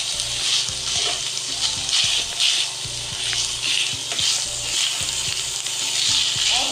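Pieces of boiled chicken fry in an oiled pan while being stirred for samosa filling, a loud steady sizzle broken by scraping and clinking of the spoon against the pan, with no talking.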